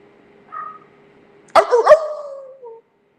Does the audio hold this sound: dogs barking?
yes